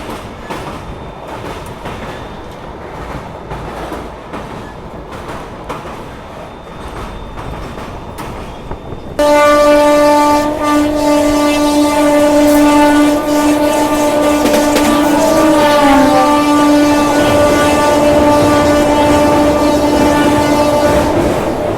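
The New Delhi–Bhubaneswar Rajdhani Express passes close by, loud and steady, with a rushing, rumbling roar and strong sustained tones from the moving coaches. It starts abruptly after a quieter stretch of background noise, and no voices are heard.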